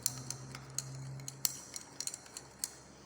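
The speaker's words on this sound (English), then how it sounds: "Mix it properly." Patent blue dye solution is stirred in lab glassware, giving a string of light, irregular clinks and ticks against a quiet background.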